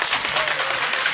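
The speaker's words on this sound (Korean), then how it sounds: "박수!" Brief burst of steady, dense applause from a congregation at a church teaching class on Christian faith, loud and close, filling the whole moment with a continuous patter.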